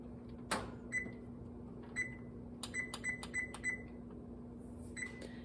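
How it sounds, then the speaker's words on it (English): A stove's electronic control beeps as a burner is set to medium-high, a string of short, sharp, evenly spaced tones over a constant low hum. "So I'm gonna go ahead and turn my burner on to 7, which is medium-high on my stove."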